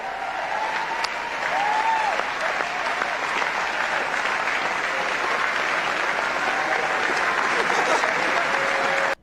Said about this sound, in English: It was the largest applause I've ever heard.